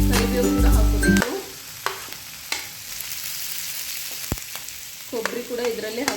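Curry leaves sizzle and fry in hot oil in a pan, a steady crackling hiss with a few sharp pops and stirring clatters, close and fairly loud.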